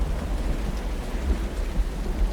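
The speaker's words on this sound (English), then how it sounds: "They disappear during the thunderstorm, do they?" Rain pours steadily during a thunderstorm in the game URU: Complete Chronicles, with dense rainfall and low rumbling thunder filling the short stretch, heard without any talking.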